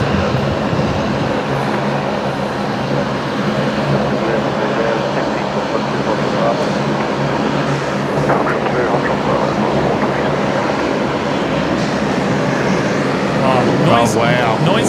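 A noisy Saab turboprop from Roma landing at Brisbane Airport, a loud steady engine roar that fills the whole stretch, with a voice faintly audible over it.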